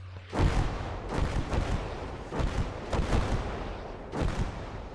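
Mortar fire in the World War II game Call to Arms: Gates of Hell, with several heavy booming blasts about a second apart, each followed by a rumbling tail, loud and continuous with no talk.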